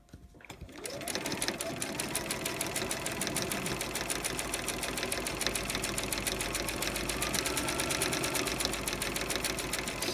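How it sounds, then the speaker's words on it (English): A sewing machine stitches a single fold binding with cotton thread, running at a fast, even, steady rattle from just after the start to the end, close and fairly loud. "I start stitching back a little bit, just stitching over some of the stitching I've already put in"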